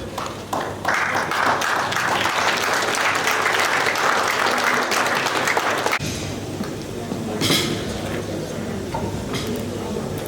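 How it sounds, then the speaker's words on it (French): Audience applause at a 70th birthday celebration, steady dense clapping that carries on for about ten seconds and thins slightly partway through, with voices and cheers mixed in. "Merci, on applaudit, on encourage Madi"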